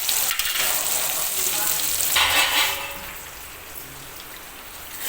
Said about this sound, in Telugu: టమాటా వేసుకొని ఇలా మగ్గించుకోవాలి. కాసేపు ఇలా మగ్గుతుందండి.